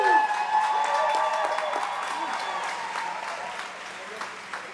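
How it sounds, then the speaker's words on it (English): An audience at the Courage 2019 conference breaks into sustained applause with some cheering, loud and steady at first and slowly fading, while voices carry over the crowd. "if you could please give a massive, massive round of applause for Tamsin, Tenny and Tracy"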